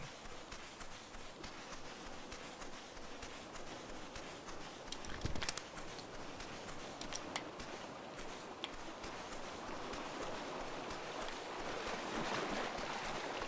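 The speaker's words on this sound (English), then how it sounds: "Hear water, so I'm guessing it's over here." Water flowing in the video game Eastshade, a constant rushing wash with occasional brief splashy bursts, steady and moderately loud with no talking.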